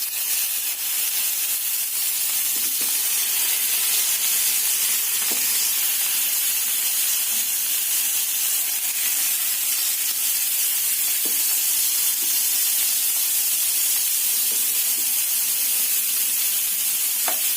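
Fish marinated in turmeric and salt frying in hot oil over a high gas flame, giving a steady, loud, continuous sizzle with a few faint clinks throughout, no talking.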